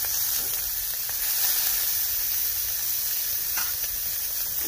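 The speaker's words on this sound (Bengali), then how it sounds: "চিংড়ি মাছটাকে ভাজা হচ্ছে" Prawns frying in hot oil, giving a constant bright hiss and sizzle with faint scraping from stirring, close, even in level and uninterrupted, with no voices.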